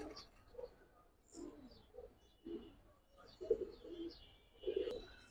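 Giribaz pigeons in a collection cooing in soft, repeated low bursts at a moderate distance, about five coos spread across a few seconds, with faint chirps in the background.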